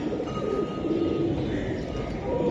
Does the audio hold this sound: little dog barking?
no